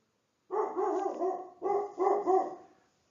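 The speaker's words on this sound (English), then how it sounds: "Sorry for this crazy barking dog." A dog barks nearby in two quick bursts of several harmonic, yelping barks each, loud and clear against otherwise quiet surroundings.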